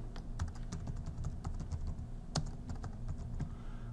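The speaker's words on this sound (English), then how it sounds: "First thing we'll do is type day tours and then click it." Someone types on a computer keyboard during a LoadComplete software demo, a quiet run of rapid, closely spaced key taps over a low background hum, with no voices.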